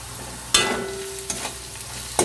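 Mung dal, potato and grated ginger being stirred in a hot pan: a soft low sizzle with a few sharp scrapes of the spoon against the pan, close and fairly quiet.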